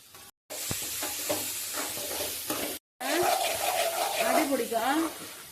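Garlic and curry leaves fry in a pan while being stirred for a prawn curry, giving a close, steady sizzle with scraping stir strokes, and a voice talks over it.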